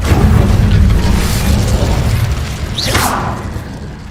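A fiery Incendio spell blast in Hogwarts Legacy, a loud booming burst with rumbling low end that swells and decays over a few seconds, followed by a brief whooshing swirl.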